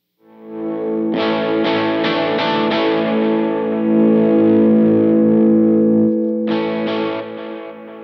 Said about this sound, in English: You can hear it's dirty even when the volume pedal's barely on.